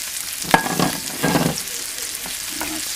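Sliced mushrooms and potatoes fry in a pan and are stirred, with steady sizzling and a few scraping strokes. No one talks over the cooking.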